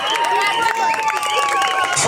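A school audience claps together to welcome the headmistress at a school function. The applause is dense and steady throughout, with crowd murmur and a voice mixed in.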